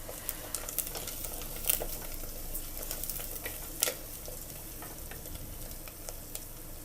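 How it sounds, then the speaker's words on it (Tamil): Coriander leaves sautéing in a pan for mutton dum biryani give a faint, steady low sizzle, with a few soft stirring clinks standing out over the background hiss. "கொத்தமல்லி தழையை சேர்த்து நல்லா வதக்கிக்கோங்க"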